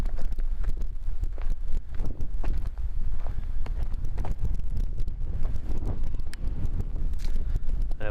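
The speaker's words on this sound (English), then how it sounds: "Wind is really picking up." Gusty wind buffets the microphone at a backpacking campsite in a Minnesota state park, a continuous loud roar with rustling and irregular thumps throughout.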